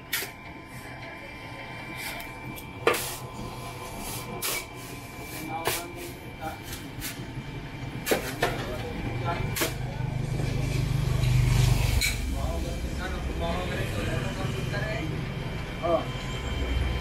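A hollow block making machine starts up and runs, giving a steady mechanical rumble with repeated sharp clanks and knocks; the drone thickens toward the end as the machine works.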